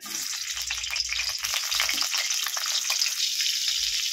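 Cauliflower florets sizzle and crackle in hot mustard oil in a wok, a steady close frying hiss with faint low thumps underneath and no voices.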